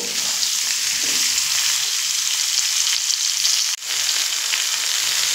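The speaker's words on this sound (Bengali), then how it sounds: "আবারও 2 মিনিট মতো একটু আলুর সঙ্গে ভেজে নেব" Chopped vegetable stems fry with potatoes in a pan, making a loud, steady, close sizzle that runs throughout with a brief dip near the end, and no talking.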